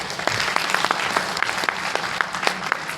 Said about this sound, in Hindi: इसके लिए जोरदार ताली तो होना ही चाहिए।